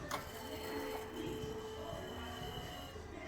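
A fuel pump in a Mazdaspeed 3 primes with a faint, odd whirring and a rising electric whine under a steady background hum, quiet and heard at some distance.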